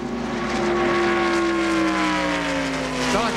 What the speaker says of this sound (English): It has a very high-pitched whine to it, the 4 car does.